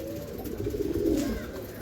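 Pigeons coo softly in a breeding loft, low rolling calls repeating close by over faint background noise.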